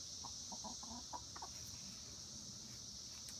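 Ten pet backyard hens clucking in short, soft bursts, a little distant, over a steady high background hiss; the clucks cluster early and then fade into the hiss, with no one talking.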